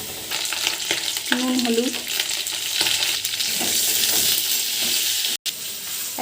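Pointed gourd and potato pieces fry in hot mustard oil, a steady broadband sizzle running close and loud throughout, with a brief voice in the middle and a short dropout near the end.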